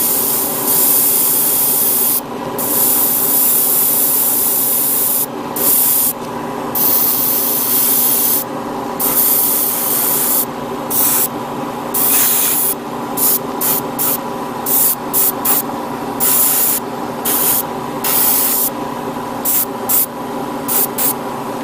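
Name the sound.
airbrush spraying thinned paint on Gundam model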